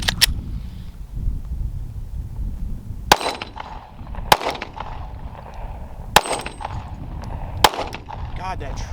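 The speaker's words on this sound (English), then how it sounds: "first rounds through the gun" A Glock 43X MOS pistol with its stock factory magazine fires five sharp, loud single shots spaced about a second or more apart, with low background rumble and talking between them.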